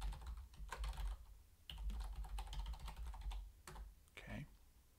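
Someone typing an email address on a computer keyboard: a quick run of close, crisp key clicks in irregular bursts, with a short pause partway through.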